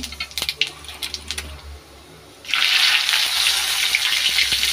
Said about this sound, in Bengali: এখন আলুটা ভেজে নেব।